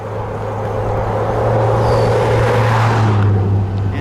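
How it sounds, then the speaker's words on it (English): A Qlife Hunter all-terrain folding eBike accelerates on its throttle, a steady loud motor hum with a low drone swelling slightly over a few seconds amid outdoor rumble. "just the slightest touch of the throttle, you can see it'll take off."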